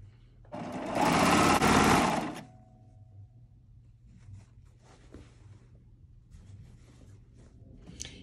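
A serger sewing machine runs loud and fast for about two seconds, stitching quilt fabric pieces for a jelly roll texture quilt, then stops, leaving faint handling and rustling of fabric.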